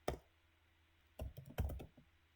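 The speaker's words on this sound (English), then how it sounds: "I'll type a scenario." Brief keystrokes on a computer keyboard: one isolated tap, then a short cluster of several quick key presses about a second later, close and fairly quiet with no talk.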